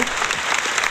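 Brief burst of steady applause from a group, dense and even for about a second.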